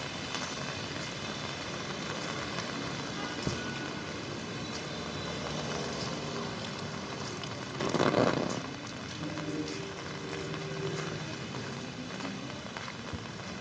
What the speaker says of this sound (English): But today in Saigon, the rain has been going on for a long time